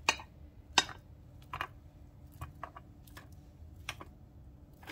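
Bananas sliced for banana pudding, giving a handful of sharp, separate knife taps on a board at an uneven pace against a quiet background.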